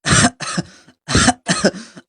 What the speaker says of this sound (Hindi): क्या हो गया, खांसी क्यों आ रही है भाई?